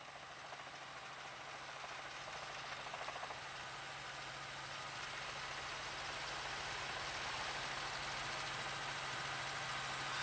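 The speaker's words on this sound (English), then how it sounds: "they're up over it, the Firebird helicopter" Steady whirring drone of a police helicopter over a car chase in Phoenix, faint and distant, holding a constant chopping hum throughout with no voices.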